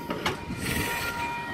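Train set V17 arriving at a station, a broad rumbling rolling-stock sound with rail noise and a brief clatter, steady and fairly close, with no talk.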